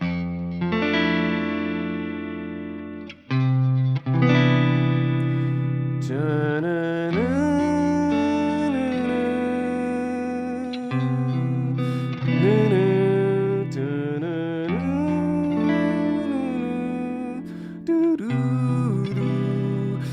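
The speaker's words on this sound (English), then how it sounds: "the opening theme, when you just like open the game on your Nintendo 64" A soft synthesized Nintendo 64 game opening theme plays in C major with sustained harmonies and gentle echoing chords, calm and continuous.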